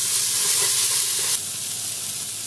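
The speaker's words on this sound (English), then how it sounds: "Caramelize this onion." Onion caramelizing in a hot pan gives off a steady soft sizzle and hiss that drops slightly in level partway through, with no one speaking.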